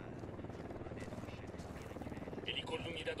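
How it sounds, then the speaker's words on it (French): Patrolling helicopter in the video game Ghost Recon Wildlands, a steady rotor thrum running throughout beneath game sounds and layered talk. "Hélico de l'Unidad en patrouille, attention."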